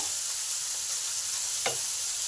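Pumpkin pieces fry in oil in a pan, a steady soft sizzle throughout with one brief clink of a utensil partway through, no voices.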